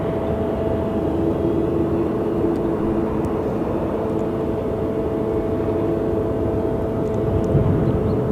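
A Boeing 787 Dreamliner taxis past Delta gates at Sky Harbor Airport with a loud, steady jet engine roar and a constant whine. The roar stays even and unbroken, with no voices.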